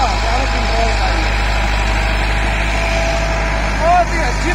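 A Massey Ferguson Millat 385 tractor runs steadily at about 1600 to 1700 rpm with its hydraulics working, giving a loud, constant low engine drone close by. Someone talks over it throughout.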